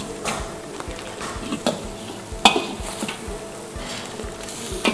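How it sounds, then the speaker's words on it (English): Creamy chicken mushroom soup thickened with cornstarch being stirred in a pot, with soft repeated scraping and a few sharp utensil clinks against the pan over a low simmering background. "Then I stir. The reason for adding cornstarch is to make it thick."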